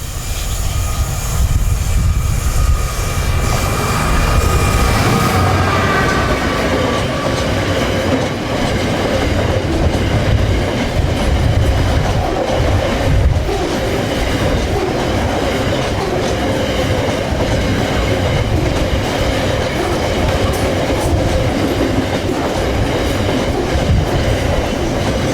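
A freight train hauled by a Class 66 diesel locomotive, 66-200 in Railway 200 livery, passes at Northallerton on a Knowsley to Wilton working; loud, continuous rumble and clattering wagons fill the whole stretch with no voices.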